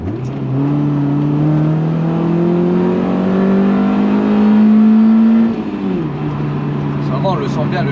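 A Honda CRX del Sol's VTEC engine revving hard under acceleration, a loud steady drone climbing in pitch for several seconds, then easing off as the gear changes, with voices speaking over it.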